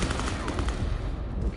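Rapid bursts of gunfire from the video game Vampire: The Masquerade – Bloodlines 2, dense and loud, filling a short stretch with rattling shots over a heavy low rumble.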